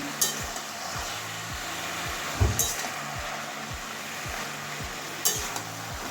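Malabar spinach is being stirred with a hilsa fish head in a hot frying pan, giving a steady sizzle and rhythmic spatula scrapes, with a few louder clanks against the pan.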